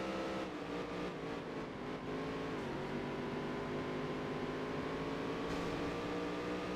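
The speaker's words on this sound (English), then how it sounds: "The downshifting to third is not great" A race car engine in the video game Dirt to Daytona, a loud, continuous droning engine whine that dips in pitch as it drops to third gear, then holds steady at high revs with no talk.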